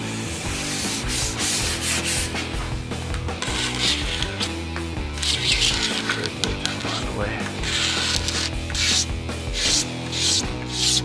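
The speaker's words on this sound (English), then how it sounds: "got our pod sanded down nicely" Sandpaper rubs over the flow-coated foam pod of a radio-controlled surfer model, a loud, continuous rasping with quick back-and-forth strokes close by and no talking.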